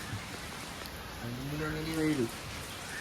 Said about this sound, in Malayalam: എല്ലാം റെഡി ആയപ്പോൾ മഴ